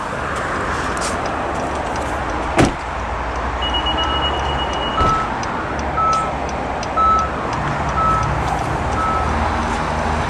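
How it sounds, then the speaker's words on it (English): A 2017 Acura ILX A-Spec gives a series of short, evenly spaced electronic beeps as its proximity key fob goes out of range, over a steady outdoor hum, with a sharp knock near the start. "The car will beep a few times, also letting you know it has lost detection of the proximity key fob."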